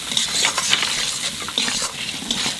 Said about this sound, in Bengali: মশলাটা একটু বাজিয়ে নিচ্ছি।